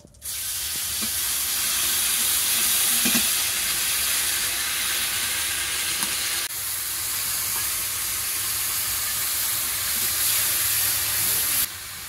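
Cumin seeds, torn bay leaves and ginger-cumin paste sizzle steadily in hot oil, a dense continuous hiss filling the whole stretch with small crackles, close and fairly loud with no talking.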